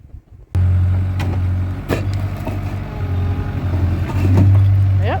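Skid steer pushing a block basement's concrete walls during demolition: a steady, loud engine drone with deep harmonic hum runs throughout, rising in strain near the end, with scraping and knocking bursts over it.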